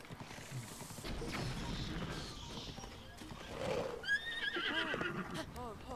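A horse in Zelda: Breath of the Wild gives several loud, wavering neighs, mixed with clip-clop hooves and game effects, while someone talks over the sounds.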